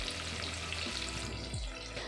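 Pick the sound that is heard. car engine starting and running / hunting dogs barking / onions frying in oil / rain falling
onions frying in oil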